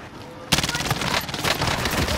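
Video game gunfire starting abruptly after a quiet half second, then rapid sustained automatic bursts, loud and close, with faint voices underneath.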